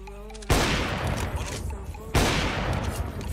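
Video game gunfire, heavy and loud, in two sustained bursts of dense rapid shots that drown out everything, starting after a brief voice at the opening.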